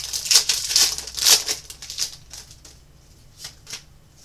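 Pokémon trading cards are flicked, shuffled and tapped together into a neat pile: a run of crisp, close card riffles and snaps, strongest at first, then thinning to a few soft taps.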